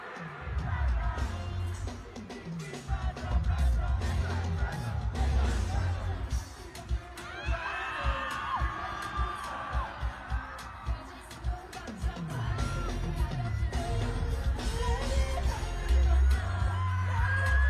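A concert crowd at a Coachella performance yells, whoops and cheers, captured up close on a phone, a dense roar with loud music and shouting voices mixed throughout.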